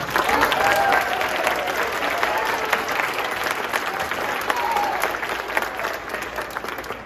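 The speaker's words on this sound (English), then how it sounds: "if you want to give them a round of applause" An audience at a midwinter school band concert claps for the beginning band, producing a full, continuous burst of applause that stays fairly even and tapers a little near the end.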